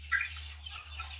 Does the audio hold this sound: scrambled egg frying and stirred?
no